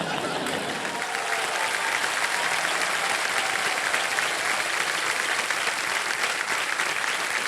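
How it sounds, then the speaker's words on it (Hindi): A studio audience on the Indian quiz show Kaun Banega Crorepati applauds in a sustained, even burst of dense clapping that carries on for several seconds, loud and close. "जितनी महिलाएं बैठी हैं वो हंस रहे हैं ताली बजा"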